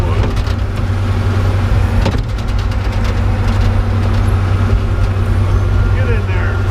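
An old Morbark wood chipper runs loud and steady, its engine droning as it chews through a gnarly old chunk of wood, with sharp cracking bursts of splintering over the continuous mechanical roar.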